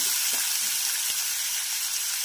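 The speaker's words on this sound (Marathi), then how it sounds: "तर हे छान तेलामध्ये आपल्याला फ्राय करून घ्यायचं आहे ग्रेव्ही बनवण्याआधी" Garlic cloves and ginger frying in a spoonful of oil in a pan make a loud, continuous hiss and crackle, close and alone without talk.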